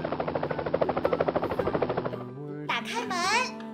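An electronic toy rescue aircraft plays a rapid rhythmic whirring rotor effect for about two seconds, followed by a short chirpy synthesized jingle, close and loud with no voices.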